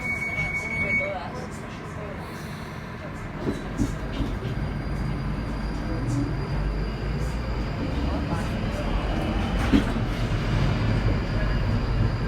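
London Underground Northern Line train running between Brent Cross and Bank, a steady low rumble and rattle throughout with brief clanks and a high whine; an announcement voice speaks over it.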